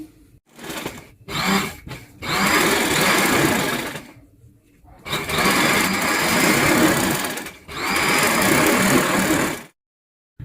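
A sewing machine runs a gathering stitch along a corded frill for a three-layer sharara, whirring loud and close in several bursts of a few seconds each, with short pauses and brief stuttering starts between them.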